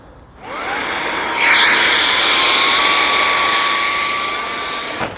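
An electric air pump inflating a Naturehike air tent kicks on with a loud, close, continuous whooshing roar that stays steady for several seconds before cutting off.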